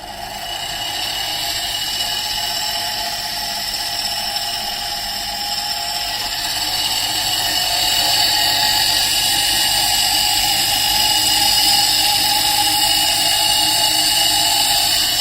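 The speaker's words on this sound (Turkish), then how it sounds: "Şu anda gelen bu ses motorla alakalı bir ses." An Arçelik 5800 E washing machine motor runs with a continuous whirring drone and a high whine, swelling gradually louder midway and staying steady with no talk.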